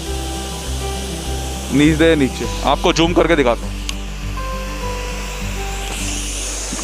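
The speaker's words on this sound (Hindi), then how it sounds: "वो ऊपर से झरना आ रहा है" A waterfall on the path to the Neelkanth Mahadev temple in Uttarakhand gives a constant rushing roar, heard as a broad steady wash beneath someone speaking.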